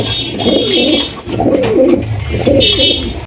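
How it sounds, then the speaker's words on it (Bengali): A pair of large Afsan Giger racer pigeons cooing close by: three rounded, throaty coos in a row, loud and clear over a steady background hiss, with no speech. "আরো একজোড়া আফসান গিজের রেসার কবুতর একদম বিশাল সাইজের দেখতে পাচ্ছেন"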